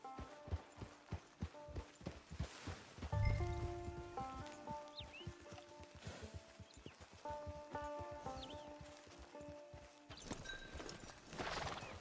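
Horse hooves clip-clop in Red Dead Online, a quiet, steady walking rhythm of soft thuds under game music, continuing throughout.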